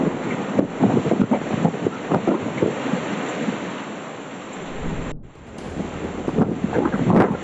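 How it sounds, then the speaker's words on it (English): Strong storm winds roar across an outdoor cafe as tables and chairs are blown away, a dense, loud rush of gusting air with rain-like hiss that briefly dips near the end before surging again. "strong winds blew tables and chairs away, dragging cafe customers outside in seconds"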